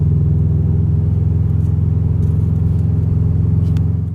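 A Subaru STI car on the road, a loud, deep, steady engine rumble heard from close inside, even throughout with a slight fade at the very end.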